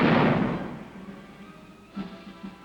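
A single heavy boom from a tank firing during a 1951 Korean War bombardment rolls away into a long rumble, with a second, fainter thump following about two seconds later.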